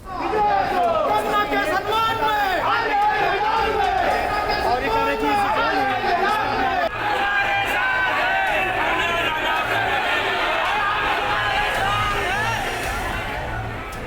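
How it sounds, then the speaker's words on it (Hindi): A dense crowd of supporters and protesters gathered at Mumbai airport, continuous overlapping shouting and chatter from many voices, loud and close throughout. "एयरपोर्ट पर कंगना रनौत के सपोर्टर्स और उनके खिलाफ प्रोटेस्ट कर रहे लोगों की भीड़ इकट्ठा"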